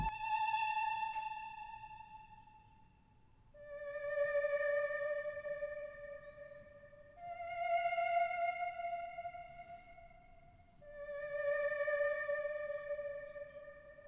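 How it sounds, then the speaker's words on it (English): A bright, airy choir-like tone plays short sustained notes in a slow repeating pattern, each swelling and fading with a soft echo tail. "It's just a choir type of one shot"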